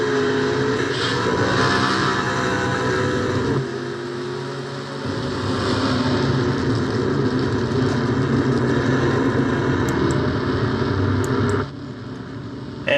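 A race car engine in a racing video game, a Coca Cola 600 cup race, runs as a steady loud drone that drops away briefly, then rumbles on before fading near the end.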